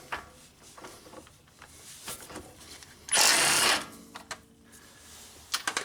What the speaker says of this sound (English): using a 17mm socket, we'll get this castle nut off